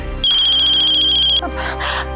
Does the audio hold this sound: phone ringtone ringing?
yes